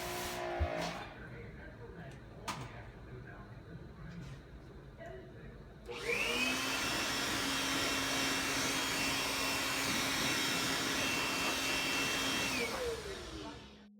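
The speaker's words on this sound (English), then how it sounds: "we're going to blast it with a pressure washer up close and put some more stress on those sealants" Pressure washer blasting a sealant-coated car at close range, a loud steady hiss with a whining pump tone that kicks in midway and runs continuously, preceded by quieter handling noises.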